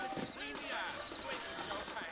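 Horse hooves clip-clop in the Red Dead Redemption video game, a steady trotting rhythm heard alongside an occasional whinny and game sounds, with a voice talking over it.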